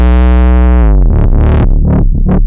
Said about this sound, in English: just a little bit here, a water pistol.